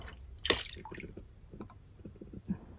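Upholstery cleaning gel is poured into water: a short splashy drip and soft liquid squish, then faint trickling, close and quiet, with no talk.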